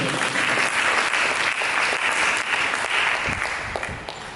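A church congregation breaks into loud, sustained applause during a sermon, a thick crowd of clapping hands that holds steady before tapering slightly toward the end.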